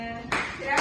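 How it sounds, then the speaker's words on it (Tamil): Classroom applause as students clap together in a short burst that swells, briefly dips, then rises again, fairly close and moderately loud. "சரி, கைத்தட்டல் கொடுங்க."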